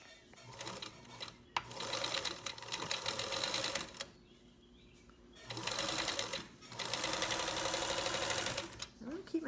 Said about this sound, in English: I'm going to do a 1/4 inch seam. I'm going to start by back tacking.